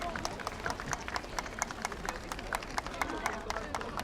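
Audience applause for a host called onto the stage at a Korean promotional talk event, dense steady clapping under a busy crowd with scattered sharp claps throughout.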